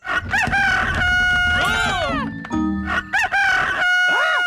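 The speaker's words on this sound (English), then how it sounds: "It's the cockerel from the elf farm." A loud rooster crows close by, its cock-a-doodle-doo ringing out over bright background music, with a few clucks and squawks mixed in.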